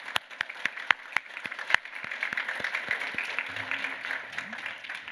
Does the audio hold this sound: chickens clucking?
no